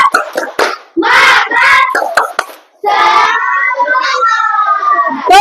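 Schoolchildren in a classroom perform a clapping routine, sharp rhythmic hand claps mixed with loud chanted voices in short bursts, then a longer sustained group chant, close and lively.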